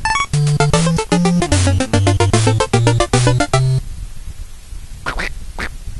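Duck Hunt video game sounds: a chiptune jingle of bright stepped beeps, then two short raspy electronic duck quacks alone after the music stops.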